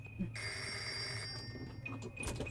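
A telephone ringing inside a phone booth in the video game Reveil, one sustained bell ring about a second long followed by shorter fragments, with a voice talking alongside.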